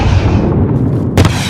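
A grenade blast during a firefight in the Embassy mission of Call of Duty Modern Warfare: a loud, close, booming roar that rumbles on, with a sharp second burst near the end.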